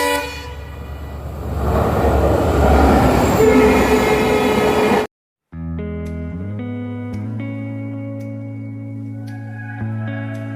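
Train at Naharkatia railway station in Assam during rain: a loud rumbling, clattering train passes for about five seconds, then after a brief gap comes steadier tonal machinery hum with shifting pitched tones, no talking.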